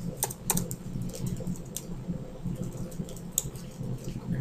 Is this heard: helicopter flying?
no